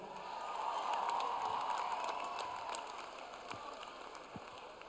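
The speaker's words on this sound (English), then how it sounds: "Big round of applause for Jerry Duffy." An audience claps for a guest in a suit at a comedy show, the applause swelling early, then gradually thinning into scattered claps.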